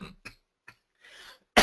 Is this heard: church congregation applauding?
no